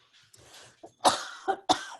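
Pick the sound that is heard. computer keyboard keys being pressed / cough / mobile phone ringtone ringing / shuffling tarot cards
cough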